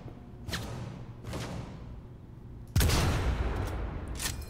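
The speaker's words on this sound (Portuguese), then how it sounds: "Eu vi de onde saiu o tiro" Gunfire in the Cyberpunk 2077 game: two muffled distant shots ring out, then a louder, closer blast, followed by another sharp report near the end.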